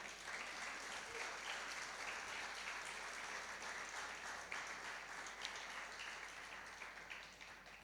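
A church congregation applauds together during a sermon, a dense, continuous wash of many hands clapping at once. The sound stays steady and fairly faint, as if heard from a distance, with no break throughout.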